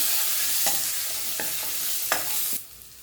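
A spoon scrapes and stirs sambar in a pan with a few distinct strokes over a soft background hiss, then the sound drops away.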